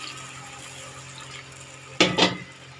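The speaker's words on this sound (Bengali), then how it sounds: "কিছুটা জল দিয়ে দেবো।" Water poured into a pan of Gobindobhog rice, cauliflower, potato and peanuts: a short double splash near the end, after a quiet kitchen hum.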